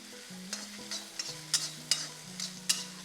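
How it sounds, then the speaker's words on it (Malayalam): Onion, ginger and garlic are sautéed in a pan, with a soft sizzle beneath about half a dozen sharp scraping stirs of a spoon against the metal, close and fairly quiet. "കുറച്ച് ഇഞ്ചി, വെല്ലുള്ളി, ഇതെല്ലാം ഒന്ന് നമുക്ക് നല്ലോണം ഒന്ന് സോത്തേ ചെയ്ത് ഒന്ന് സോഫ്റ്റൻ ചെയ്യാം."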